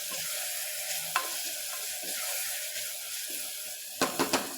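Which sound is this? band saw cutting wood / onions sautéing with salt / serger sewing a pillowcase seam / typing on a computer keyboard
onions sautéing with salt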